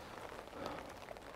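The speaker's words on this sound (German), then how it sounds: "jetzt gehen wir in den Regen raus" Steady rain falling outdoors at a bushcraft camp, a soft continuous hiss of drops pattering on surfaces, even and fairly quiet throughout with no voices.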